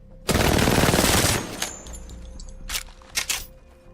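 A full-auto weapon fires a loud rapid burst lasting about a second in Apex Legends, followed by a few quieter clicks and metallic mechanical sounds.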